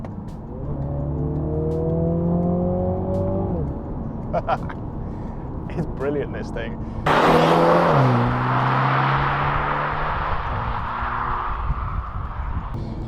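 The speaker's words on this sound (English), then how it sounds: "that engine, it's a real torquey motor and it just picks up from any gear" A MINI Clubman JCW engine revs up through the gears, rising pitch sweeps broken by shifts, then a louder burst of acceleration with rushing noise; someone speaks briefly over it.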